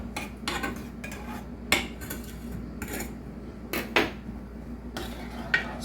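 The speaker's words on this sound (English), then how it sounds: "Stir with a knife, stir up strife." A knife clinks and scrapes inside a pot while barbecue sauce with brown sugar is stirred, giving several sharp metallic taps and clatters spread irregularly over a quiet background.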